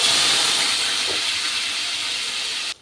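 Onions dropped into hot oil already holding mustard seeds, cinnamon, fennel and cloves for a blood fry, giving a steady, loud broadband sizzle that holds evenly throughout before cutting off abruptly near the end, with no talk.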